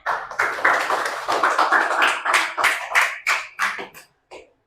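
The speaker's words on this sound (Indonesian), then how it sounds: "Kasih tepuk tangan" A small class claps for a group that has just finished presenting, a quick run of distinct handclaps in a loose rhythm that thins out and ends with a last few scattered claps.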